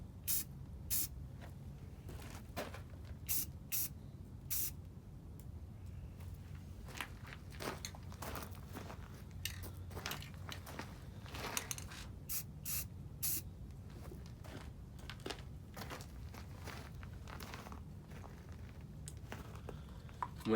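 Spray paint dusted in quick, short bursts onto a glow-in-the-dark skull, a faint, close hissing that repeats steadily with brief gaps between sprays.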